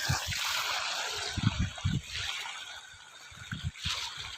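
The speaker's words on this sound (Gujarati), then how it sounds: "ગાઈસ જોઈ શકો છો અહીંયા મોટરનું પાણી પડે છે, આ છે મોટરનું પાણી, બોરનું પાણી છે" Water from a borewell motor pump pouring onto a farm field, a continuous splashing rush close to the microphone, with low bumps and handling knocks scattered through the short stretch.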